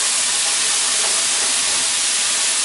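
Dry red Pinot Noir hits a hot pan of onions, setting off a loud, continuous steamy sizzle and hiss that stays strong and even throughout.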